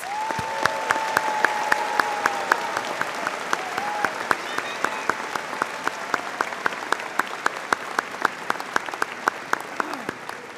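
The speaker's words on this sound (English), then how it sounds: "Let's give them a round of applause." Sustained audience applause at a college of engineering commencement, with sharp individual claps standing out near the microphone over the broad crowd clapping and faint voices mixed in throughout.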